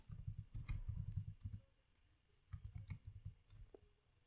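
Keys clatter on a computer keyboard as code is typed, two quick bursts of close clicking separated by a short pause, faint and without talk.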